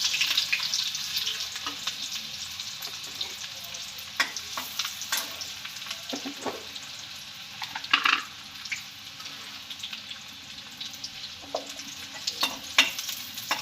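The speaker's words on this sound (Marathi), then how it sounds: "आता आपण याच्यात कांदा टाकून घेऊ" Chopped onion frying in oil for a spicy prawn curry, a steady broad sizzle with irregular scraping stirs and clicks of a spoon against the pan, fairly close and without talk.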